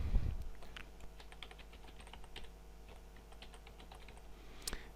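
Steady typing on a computer keyboard, a quick run of light close clicks and taps going on alone without talk.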